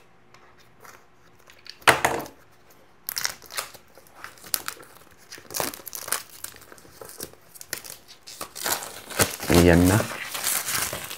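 Packaging of a DJI Action 5 Pro camera crinkles and tears in sharp, uneven bursts as the box is opened, mixed with a person talking and ending in a longer rustling stretch.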